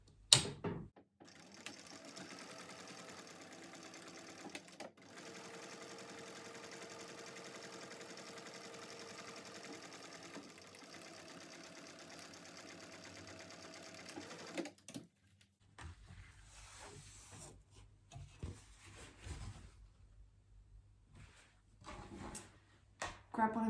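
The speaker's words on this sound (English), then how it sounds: "I'm going to top stitch up here" A sewing machine runs steadily while top stitching a tote bag with a longer stitch length, a continuous mechanical whir for about fifteen seconds, followed by quieter handling sounds.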